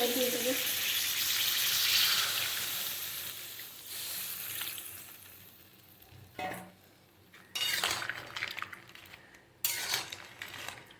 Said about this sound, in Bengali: এবার আমি এর মধ্যে একটু জল দিয়ে দেবো।